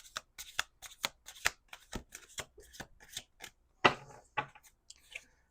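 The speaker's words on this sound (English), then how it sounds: "Last shuffle." A tarot card deck being shuffled by hand: a quick run of soft, crisp riffles and flicks in an uneven rhythm, quiet and close.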